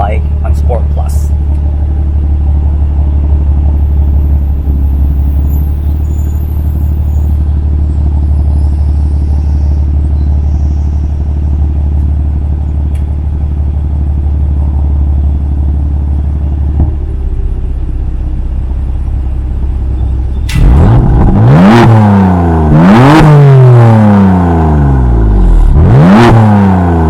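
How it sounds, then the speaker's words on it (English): A BMW F82 M4 exhaust in Sport Plus mode idles in a long, deep drone, then barks through three sharp, loud revs near the end. "Now this is what the exhaust sounds like on Sport Plus."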